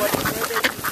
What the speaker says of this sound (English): You got blocked off by the freaking geese.